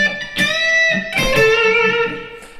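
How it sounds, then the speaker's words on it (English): An electric guitar plays a short lick in the minor pentatonic scale, a few quick picked notes ringing into a sustained bent note, clear and close with no speech. "Now, the second bar, we're going to the minor pentatonic scale, and the lick sounds like this."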